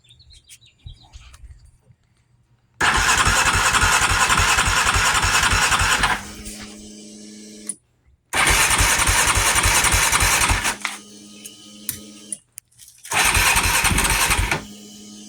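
A 2008 Husqvarna TE450 dirt bike, months unused and just refuelled, cranking repeatedly in three loud bursts of starter grind and engine sputter, with quieter idle-like stretches between, close up and with no talk.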